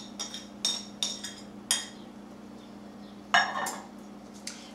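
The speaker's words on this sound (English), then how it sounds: "I'm going to stir that all around." Spoon clinking and scraping against a bowl while cream cheese and crushed garlic are stirred together, a handful of crisp taps spaced irregularly over a low steady hum, no voices.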